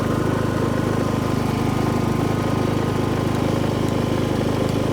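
A Predator 5000 portable generator runs on gasoline, its engine droning steadily and loudly at a constant idle-like pitch with a fine rhythmic vibration and no change throughout.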